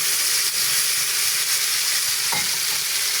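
White cabbage and potatoes browning in a frying pan give a steady, close, dense sizzle with a few faint stirring knocks, with no talking.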